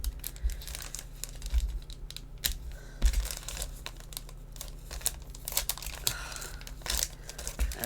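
Paper and card stock crinkle and rustle continuously at close range as scissors snip into paper while making a card, with scattered small crisp cuts and handling noises and no talk.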